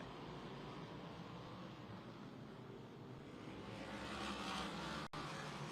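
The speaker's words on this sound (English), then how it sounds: "hear the modifieds rumble by" A continuous low engine roar of modified race cars going past on a short oval track, broad and rumbling, swelling slightly louder toward the end.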